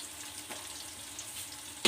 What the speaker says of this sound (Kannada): ಸ್ವಲ್ಪ ತುಪ್ಪನ ಹಾಕಿ ಚೆನ್ನಾಗಿ ಕಾದ್ಮೇಲೆ ಬಿರಿಯಾನಿ ಮಸಾಲೆನ ಹಾಕ್ಕೊತಾ ಇದ್ದೀನಿ. ಚೆನ್ನಾಗಿ ಫ್ರೈ ಆಗಬೇಕು.